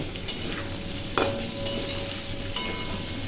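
Soybean chunks frying in hot oil in a pan, a close, steady sizzle with a few sharp stirring scrapes and clicks of a utensil.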